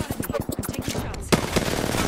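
Rapid automatic gunfire in the Apex Legends video game, a fast burst of evenly spaced shots over the first second and a half, then a sharp louder blast followed by dense, continuous firing noise.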